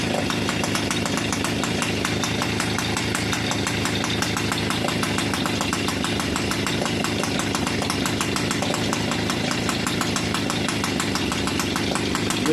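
Peugeot 103 moped two-stroke engine with advanced ignition timing and a non-original exhaust, running steadily at a fast, even idle with a rapid buzzing putter, close and loud throughout with no pauses.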